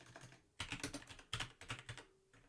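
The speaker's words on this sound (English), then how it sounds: "my typing is special today" Fast typing on a computer keyboard during a coding session, close and crisp, with dense bursts of key clicks separated by short pauses.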